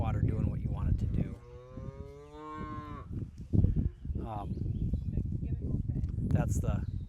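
Cattle on a homestead farm moo in long drawn-out lows, one stretched call followed by a shorter one, fairly close and mixed in with someone talking over and around them.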